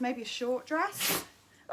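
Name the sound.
sneeze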